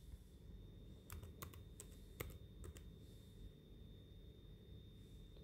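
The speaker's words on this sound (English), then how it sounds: "Just press Windows and R key, then type" Quiet bursts of typing on a computer keyboard, a handful of quick key clicks grouped together with short pauses between them, over a faint steady background hum.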